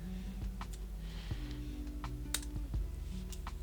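Computer keyboard keys are tapped in quick, uneven clicks while code is typed, soft and close over a faint low hum, with no talk.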